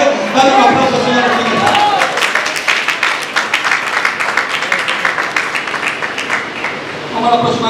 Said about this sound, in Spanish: Yo no sé si usted puede darle un aplauso al Señor.